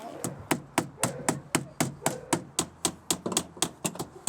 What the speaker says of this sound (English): I'm using your hammer.